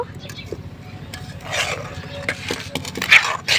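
A pot of jaggery batter with rice flour and semolina is lifted off a stove, giving a few metallic clanks and scrapes, with soft voice sounds in the background.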